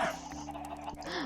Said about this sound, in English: I spawned all these chickens in here to get B-roll for my video that I made.